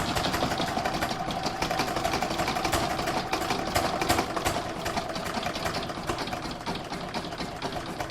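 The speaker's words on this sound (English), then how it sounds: "I'm now going to stitch round number 10, which is the satin stitch around the bow." An embroidery sewing machine runs steadily, stitching a satin stitch around a bow on a gift box design, a continuous rapid mechanical chatter at even volume with no voices.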